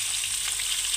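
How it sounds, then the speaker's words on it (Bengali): Potatoes frying in a pan for a fish-and-potato curry, giving a steady, close hiss and crackle of hot oil that holds even throughout, with no voices. "আলুগুলোকে খুব সুন্দর করে প্রথমে ভেজে নেব।"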